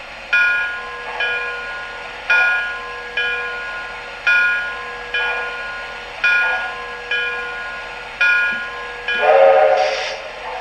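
Sound effects from a 2002 MTH 4-4-0 General Haupt Proto 2 model steam locomotive: a steady chuffing exhaust in even, repeating beats, ending in a brief whistle-like blast, with no talking.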